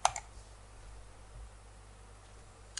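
A computer mouse clicks twice in quick succession at the start, followed by quiet room noise and one more faint click near the end, close and soft.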